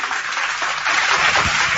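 Steady applause for a guest on an Indonesian talk show, a dense continuous patter of clapping at an even, fairly loud level throughout, with no talking over it.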